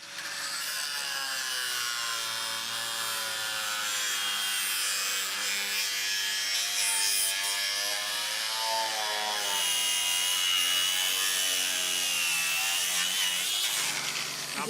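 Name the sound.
saw cutting through a wooden rafter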